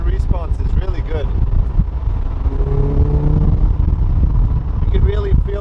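A 2006 Lotus Elise engine pulls hard while driving, a continuous loud cabin rumble with a rising tone, and a person talks over it briefly at the start and end.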